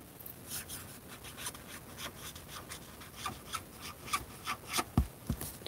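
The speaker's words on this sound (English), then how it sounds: "I can't talk and write at the same time." A pen scratches across paper in quick, quiet strokes, close and fairly faint against soft background hiss, with a couple of sharper taps near the end.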